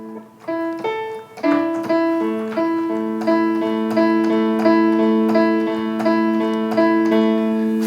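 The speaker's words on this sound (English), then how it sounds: "You also can't forget the little piano notes down here." Soft, delicate piano notes from a produced track, picking out a gentle melody over sustained chords; several clear, ringing tones at a relaxed pace, close and fairly loud, with no voices.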